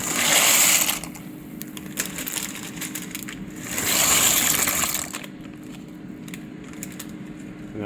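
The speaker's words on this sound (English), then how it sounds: "now we're gonna add in our macaroni" Dry macaroni pasta poured into a pot: two loud, rattling cascades of hard pieces a few seconds apart, each about a second long, with quieter clattering and settling in between.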